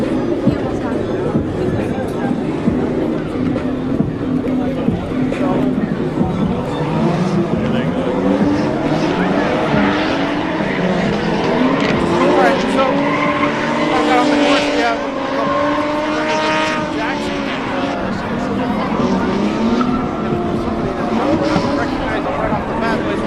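Turbocharged BMW E36 wide-body car driving past at a FuelFest car show in West Palm Beach, with loud engine roar, rising and falling revs and tire squeal, mixed with crowd noise and someone talking.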